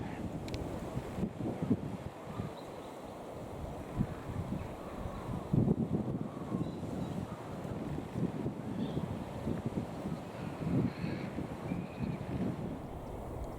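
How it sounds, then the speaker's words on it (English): Strong wind buffeting a camera microphone on an outdoor walk beside a trout stream, steady rough rumbling with gusty thumps throughout, no talking. "A lot of wind today. I don't know how the camera's standing up to it."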